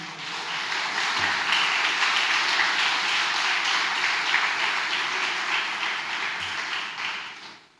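A church congregation gives a long, loud round of applause during a sermon on the extended family, a thick, steady roar of many hands that stays level for several seconds before tapering off at the end.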